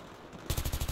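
A quick burst of MTAR-21 rifle fire in Battlefield 3: after half a second of low ambience, six or seven rapid punchy shots crack out in an even, loud volley.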